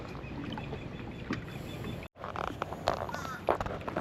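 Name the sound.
paddling a Bonafide PWR 129 kayak on water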